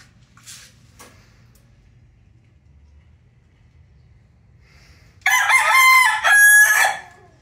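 A young McLean x Miner blue bullstag rooster crows once, loud and close, near the end, after a few seconds of near silence broken by faint small knocks; nobody speaks.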